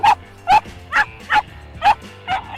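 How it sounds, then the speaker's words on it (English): Six sharp, evenly spaced barks from a Karelian bear dog, loud and close, with no talking. "The Karelian bear dog."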